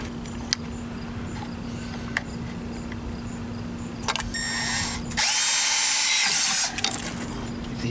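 A power drill deburrs a hole in a Sea-Doo RXT-X hull for a Garmin transducer mount. Light clicks and handling come first, then one short, close whir of about a second and a half.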